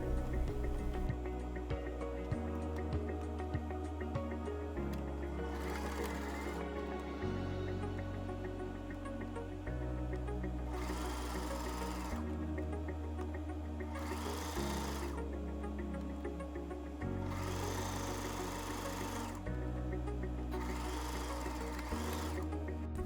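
A sewing machine stitches a shirt's outer back yoke to the two front pieces at the shoulder seams. The motor runs in repeated close, loud bursts with short pauses and changes of speed between them.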